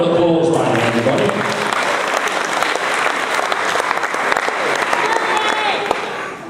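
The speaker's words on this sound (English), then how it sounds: "Give a round of applause, right, everybody." Audience applause at a hypnotist stage show, a dense, loud wash of clapping hands filling the room steadily for several seconds, with faint voices mixed in beneath it.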